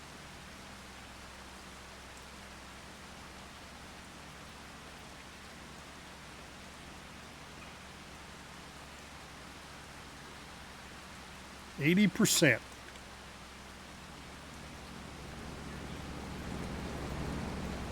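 Steady heavy rain hisses throughout in Farming Simulator 25, masking any tractor engine, with one brief loud burst near the middle and the downpour swelling toward the end.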